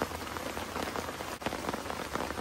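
Steady rain falls on a surface during an outdoor fishing outing, a dense, continuous patter of close drops with no pauses or talk.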